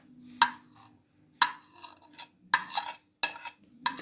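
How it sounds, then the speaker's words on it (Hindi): Fried tomato goes into green chatkhara chutney with a few spoon-scraping, stirring strokes against a bowl, arriving as separate bursts spaced roughly a second apart, close and fairly quiet, with no talking. "अब इसमें हम फ्राई किया हुआ टमाटर ऐड कर देते हैं।"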